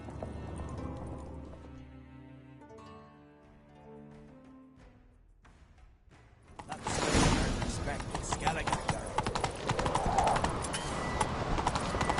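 Quiet music gives way to a loud, steady drumming of galloping hooves that carries on without a break.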